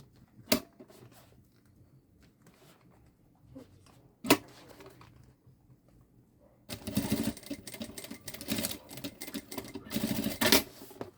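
A sewing machine stitches the middle seam of a synthetic-fabric backpack, starting after a few sharp knocks and then running in a steady, close, continuous burst for several seconds with no talking.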